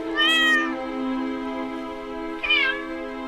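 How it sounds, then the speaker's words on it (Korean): A cat that has wandered into King Sejo's royal council hall gives two close, wavering meows, a long cry followed about two seconds later by a shorter one, with no talk. "편전에 고양이 한 마리가 들어온 것 참으로 기이한 일이 아닐 수 없었는데"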